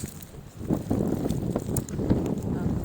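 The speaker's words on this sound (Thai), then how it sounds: "ดูสิคะได้ยินเสียงไหมคะลมแรงจริง" Strong wind gusts through a snow-covered garden on a subfreezing day, a loud, rough rumble buffeting the microphone for the whole stretch, with a voice speaking faintly beneath it.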